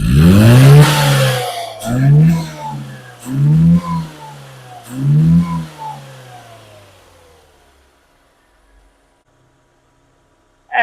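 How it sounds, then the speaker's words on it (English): A classic Metro 998 engine with an SU carburettor revs hard four times in quick succession, each snap of throttle rising and falling back, close and loud, then settling to near silence. "Not quite rich enough on snap throttle."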